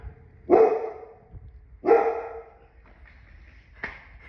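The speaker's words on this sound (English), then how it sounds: "that's my lovely dog, Luca." A dog barks twice nearby, each sharp bark spaced about a second and a half apart, followed by a shorter, fainter yip near the end in an otherwise quiet room.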